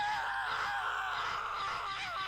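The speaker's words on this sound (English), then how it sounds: "That's the scream we heard." A drawn-out, wavering scream in the Steins;Gate Elite visual novel, strained and tonal, sounding fairly faint over a soft background hum.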